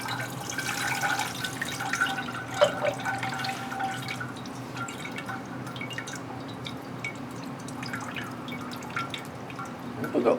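Water drips and trickles from a freshly watered Miltonia orchid pot, soft scattered drops falling over a faint steady wash of draining liquid, quiet and close.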